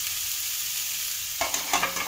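Yam pieces being stir-fried in a pan over a medium flame, a steady hiss of frying that breaks into a few close scraping stirs toward the end, no speech.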